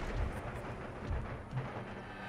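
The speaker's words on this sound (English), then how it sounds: "The gunshots are coming in from the second foot guards, second grenadiers." Musket volleys from foot guards and grenadier infantry in the Empire: Total War video game, heard as repeated deep booming shots and rumbling battle noise at a distance.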